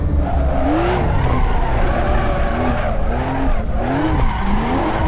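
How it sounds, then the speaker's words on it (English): A Porsche GT3 RS drifts in the Assetto Corsa racing game, its tires squealing in repeated rising wails over a steady, loud engine roar that continues without a break. "You can drift them, but it's not as easy as drifting with an M3 or something."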